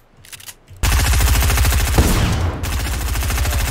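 Rapid automatic gunfire in a Fortnite Zone Wars match, loud and close, a steady rattling burst starting after a brief quiet moment and continuing to the end.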